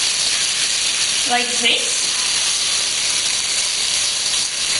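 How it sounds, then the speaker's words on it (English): Rice tipped into a hot pan of absorbed tomato pulp for risotto gives a steady, bright sizzling hiss throughout, with a brief scraping clatter and a voice speaking briefly. "when the pulp is absorbed, we add the rice"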